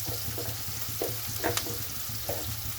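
Onion frying in a pan for a homemade palaya: a steady, moderately quiet sizzle with soft stirring clicks and scrapes, no voices.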